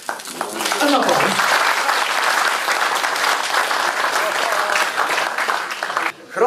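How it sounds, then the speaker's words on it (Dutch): Applause breaks out from an audience at a local heritage society farewell, honoring a man awarded for his long service; the full, sustained clapping is mixed with some voices and dips briefly near the end. "Een applaus."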